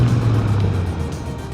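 Kawasaki Versys motorcycle under hard front braking on the road, a loud engine drone and rumble that steadily fades as it slows over about a second and a half.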